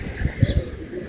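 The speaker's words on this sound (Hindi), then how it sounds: "परिंदे, कौवे हैं," Birds in a market area of Pakistan early in the morning give a short series of low, soft cooing pulses close by over a murmur of background noise.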